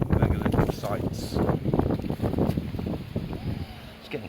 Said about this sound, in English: It's getting quite windy.